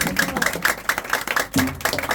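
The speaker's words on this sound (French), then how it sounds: "Applaudissez." Church congregation clapping at an anniversary celebration, a quick run of sharp claps at a brisk, fairly even rhythm, close and loud, with a brief low voice near the end.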